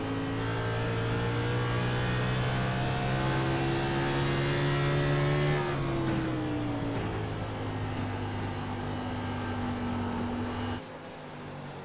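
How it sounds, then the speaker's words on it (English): A Ford Mustang race car engine in a racing game at New Hampshire, started and held at a steady loud drone, climbing in pitch as it revs, then dipping and settling before cutting lower near the end, with no talk. "John Michael Bryant has got that race car nice and started"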